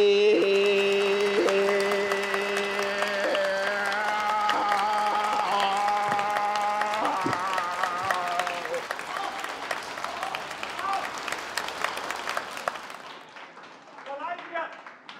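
Audience applause at a Tianjin crosstalk memorial benefit show rises under the end of a sung operatic line. A steady wash of many hands clapping continues, thinning and fading toward the end.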